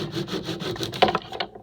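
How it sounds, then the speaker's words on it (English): A handsaw cuts wood for boat stringers, rasping in quick regular back-and-forth strokes close by, the strokes growing sharper near the end of the cut before trailing off. "I'm making the cut straight up and down, right on my line."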